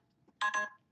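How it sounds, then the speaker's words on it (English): A phone notification chime rings out once, a short bright two-part tone in a quiet room, with a faint blip following at the end. "Totally forgot to turn down my notifications."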